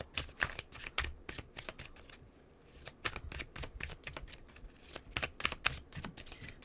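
Tarot cards are shuffled by hand in quick, close riffling bursts, with a brief lull in the middle before the crisp flicking resumes.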